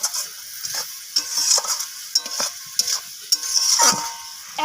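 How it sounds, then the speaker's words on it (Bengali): Cashews and raisins sizzle while frying with grapes for a chutney, a spoon stirring and scraping the pan in irregular clinks and scrapes over a steady hiss. "কাজু কিশমিশটাকে আবারও নাড়াচাড়া করে আঙুরের সাথে একটু কষিয়ে নিচ্ছি"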